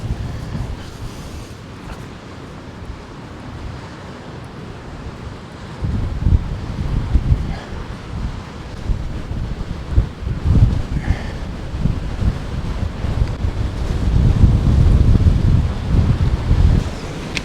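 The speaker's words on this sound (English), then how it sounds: "I can't believe how windy it is down here" Strong coastal wind at Crackington Haven roars and buffets the microphone continuously, with surf rumbling underneath and gusts swelling louder toward the end; no voices.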